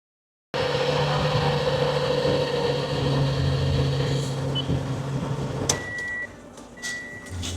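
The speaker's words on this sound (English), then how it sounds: "now I'm going to start it up and show you how a Toyota runs smooth after a nice rebuild" A freshly rebuilt Toyota engine starts and settles into a steady, even idle, a close and constant hum with a few clicks and knocks near the end.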